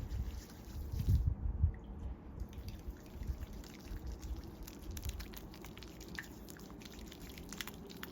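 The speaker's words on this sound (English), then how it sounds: "gathering some water here." Water poured and scooped into cupped hands at a facial treatment, a soft splashing trickle early on, then quieter drips and wet handling sounds, close and gentle.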